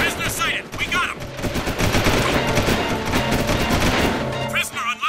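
Rapid automatic gunfire from prison guards in Jak II, dense bursts of shots crackling steadily for several seconds, with brief shouted voices at the start and end.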